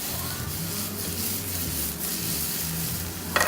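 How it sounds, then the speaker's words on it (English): Red Swiss chard stems sauté in a pan with a steady, close sizzle, ending with a brief clink of a utensil. "this is a simple saute"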